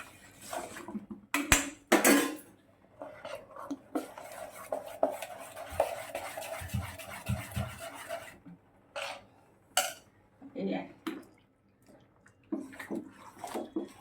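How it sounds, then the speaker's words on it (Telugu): Rice flour and cumin are mixed in a metal pot, with repeated scraping, knocking and clattering of a spoon against the pot plus a watery swishing stretch in the middle, close and fairly quiet. "బాగా కలపాలి."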